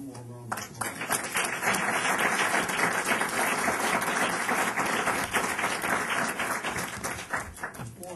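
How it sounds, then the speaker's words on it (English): An audience applauds steadily, a dense wash of many hands clapping at a moderate distance, holding for several seconds before thinning out near the end. "can we give them one more round of applause?"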